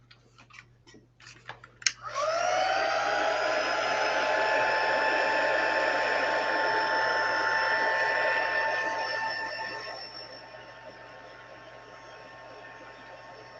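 A hair dryer drying a layer of paint on a mixed media art card switches on after a few faint clicks, then blows with a steady whining hum that softens toward the end, close and alone.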